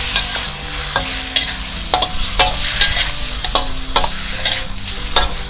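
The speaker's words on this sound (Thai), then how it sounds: "ก็ผัดให้เส้นเกรียมนิดหน่อยนะคะเพื่อจะได้มีกลิ่นหอมของเส้นนะคะ" Noodles stir-fried with dark soy sauce in a hot wok, loud continuous sizzling with repeated sharp scrapes and clacks of the spatula tossing them, close up and without talk.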